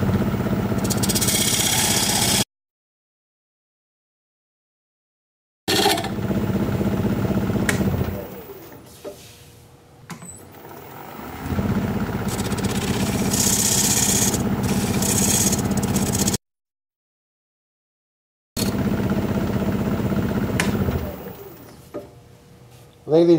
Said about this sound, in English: Now I'm going to use this diamond point tool to create straight sides on my tenon.